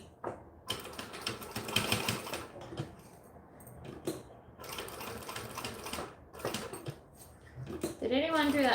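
A sewing machine stitches down a folded strap in bursts of fast mechanical whirring that start and stop, with brief handling clatter between runs and a voice talking in the background.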